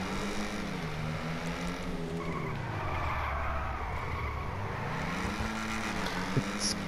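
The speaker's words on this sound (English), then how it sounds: "It's kind of fun to slide around with it," A Jugular car in the video game GTA 5 power-slides with a sustained engine drone that rises and falls through the gears, while tires skid steadily underneath and a short squeal comes near the end.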